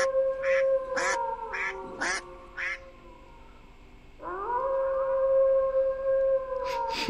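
Wolves howling in a city bus coach driving video game, several long rising and wavering howls near and loud, with a second howl entering midway and overlapping the first.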